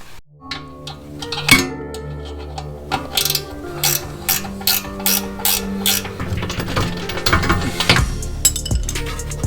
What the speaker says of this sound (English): I'm going to go ahead and pull this caliper off so I can check it over